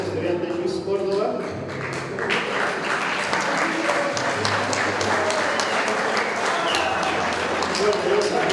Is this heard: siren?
no